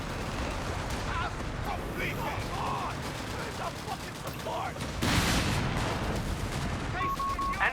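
Battlefield gunfire from Company of Heroes 3, with bursts of machine gun and rifle shots crackling steadily over a dense, continuous din of combat noise. A louder surge of fire breaks in partway through, and a voice talks under the shooting.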